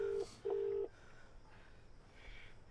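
A telephone being dialed: two short, clear keypad tones in quick succession, the second longer, followed by faint background murmur.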